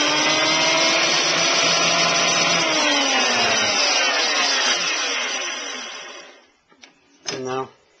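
An Axminster WP150 woodworking planer, in very clean, almost new condition, running loudly and steadily with a high whine and rumble up close, then winding down to a stop, after which a short knock and brief rattle follow.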